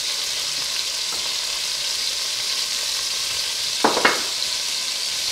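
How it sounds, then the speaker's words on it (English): Pork shoulder seasoned with Cajun seasoning sears in a pan, a steady close sizzle running throughout, with a couple of brief clatters near the end as the meat is shifted. "I'm putting this pork shoulder right in here. About to add some seasoning to it, season it up, and sear it."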